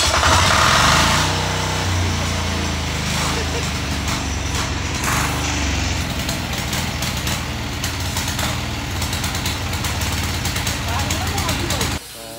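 A Weima 12hp gear-type diesel cultivating tiller engine starts up and runs, a loud close rattling diesel chug that settles into a steady throb, with someone talking over it.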